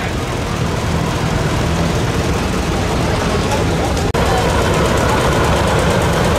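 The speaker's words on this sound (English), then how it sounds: "Here's another Depression-era tractor. This is the John Deere B, built 1937." A Depression-era 1937 John Deere B tractor engine runs at a show, giving a loud, steady, rapid popping chug that continues without letup apart from one brief dropout near the end.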